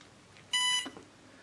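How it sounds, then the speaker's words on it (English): A Cobra electronic speed controller on an RC plane gives a single short, bright electronic beep as its battery is plugged in, close and clear, followed by a faint softer tone. "we got our beep to say that we're hooked up"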